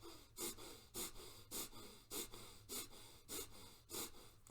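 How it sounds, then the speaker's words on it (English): Rapid forceful breath-of-fire exhalations through the nose during a kundalini yoga practice, eight crisp, even, rhythmic snorting bursts roughly every half second, close and fairly quiet with no speech. "and now closing the mouth and just doing this through the nose."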